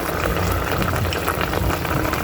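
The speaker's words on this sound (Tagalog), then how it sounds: "At kumukulo na po ang ating iluluto. Ang ating adobong tilapia." Adobong tilapia, a fish stew, boils in a pot with a loud, steady bubbling and simmering that continues without pause and without voices.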